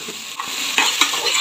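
Vegetable fried rice with finely chopped cabbage tossed and stir-fried in a pan, a loud close sizzle with quick scraping strokes of a spoon, a few in rapid succession.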